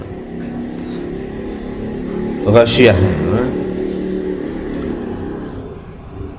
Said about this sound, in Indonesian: Kenceng banget tuh motor ya.